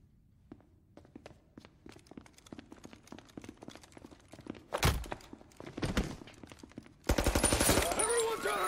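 Shotgun blasts in Mafia Definitive Edition gameplay: a couple of loud, sharp booms stand out after a stretch of quieter tapping and thuds, and heavy gunfire fills the end of the clip.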